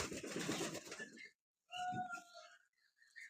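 Domestic pigeons coo in a loft or handling setting where new birds have their wing feathers clipped, with a voice talking over the first stretch and shorter tonal calls following after a pause.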